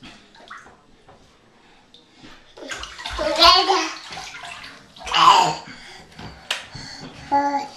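A baby plays in a bathtub during bath time, with splashy water bursts and sloshing in short clusters under an adult's nearby talk and a child's babbling.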